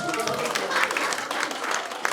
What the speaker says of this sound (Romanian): Aplauze dacă aveți copil!